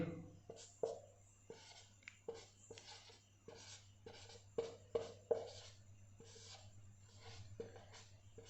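Chalk or marker strokes tap and scrape across a board in quick irregular bursts, close and fairly clear, against a low steady hum of the room, with no talk.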